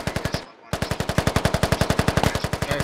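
Rapid automatic gunfire from a military shooter game in close-quarters combat: a fast, even burst of loud shots, a brief pause, then a long unbroken rattling stream, with no voices.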